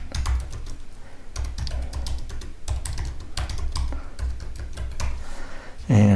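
Steady typing on a computer keyboard, close and clear, with quick irregular keystrokes and brief pauses between bursts, alone without talk.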